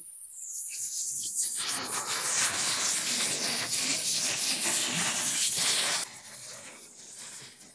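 Marinated fish sizzles in hot oil on a stove, a loud, dense crackling hiss that bursts in after a brief quiet start and holds steady for several seconds before dropping off sharply near the end.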